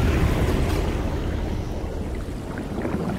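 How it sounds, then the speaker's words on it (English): Ocean waves in the survival game Sons Of The Forest wash in a steady, loud surf roar with a windy rush, continuous and without talk. "We got the ocean"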